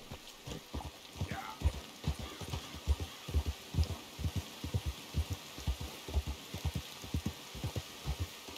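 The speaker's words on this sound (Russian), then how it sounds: "Опять дождь." Rain in the Red Dead Redemption 2 video game falls as a steady hiss, with a rhythmic horse clip-clop close by throughout.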